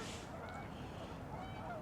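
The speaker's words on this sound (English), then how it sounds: "the geese." Geese honk faintly near a pond under steady outdoor background noise, a few short calls in the distance.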